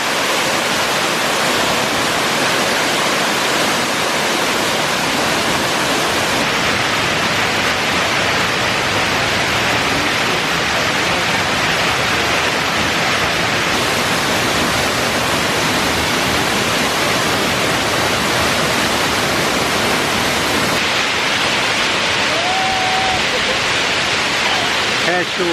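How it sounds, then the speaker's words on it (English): Hareshaw Waterfall in Northumberland National Park pours heavily after rain, a loud, continuous broadband roar of falling water that stays steady and close for the whole stretch. "Hareshaw Waterfall. 187 on our list. This is amazing."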